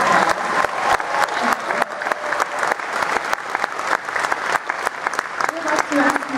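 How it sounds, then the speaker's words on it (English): Convention audience applauding at a Star Trek panel, dense sustained clapping from a large crowd, loud and close, continuing throughout without any voices standing out. "So let's give him a round of applause."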